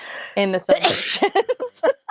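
One quick sneeze bursts out partway through, set among conversational speech from people talking before and after it.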